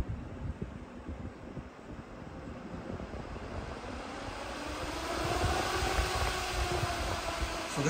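Four Delta QFR1212GHE 12V cooling fans run on a PWM speed controller, producing a steady broadband whoosh that swells noticeably louder partway through as their speed is raised.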